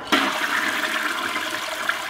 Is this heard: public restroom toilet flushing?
yes